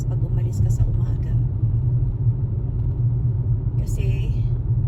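Morning rush-hour traffic on a cold Canadian road: a steady, close low rumble of car engines idling and creeping forward, with brief faint voices at the start and near the end.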